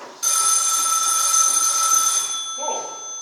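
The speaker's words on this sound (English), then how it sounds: "Oh, that'll be the phone." A telephone bell rings loud and continuous for about two seconds, then stops.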